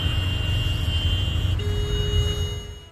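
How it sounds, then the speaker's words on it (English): Car horns blare in Abuja traffic, a sustained close honk with a second horn joining at a different pitch, over a steady low rumble of engines. "The constant sound of car horns can be overwhelming."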